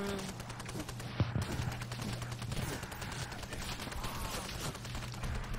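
Rapid blind gunfire in a Nazi zombie bunker video game, dense bursts of shots running almost continuously at moderate level, with a low steady hum beneath.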